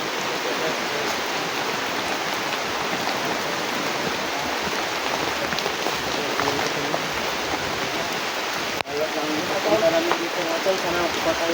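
Rain falls steadily outdoors in a banana grove beside a well, a continuous wash of hiss with a brief sharp knock near the end and faint voices in the background.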